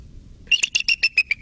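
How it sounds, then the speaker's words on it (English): A bald eagle gives its real call: a rapid series of about seven high, thin, piping chirps in a quick, even rhythm, clear and fairly close with no other sound. "because a bald eagle actually sounds like this."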